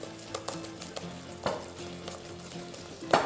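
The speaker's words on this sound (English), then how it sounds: "whisk a bit more until you make a paste and it all starts to bind together" A whisk stirs flour and a little milk into a thick pancake batter paste. The scraping strokes are soft, rhythmic and close, with a sharper knock near the end.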